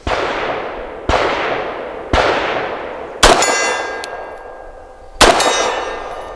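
Subsonic 147 grain PPU rounds from a BUL Armory EDC pistol strike a steel target: five sharp shots about a second apart, each with a ringing metallic clang that decays, loud and close, no talk.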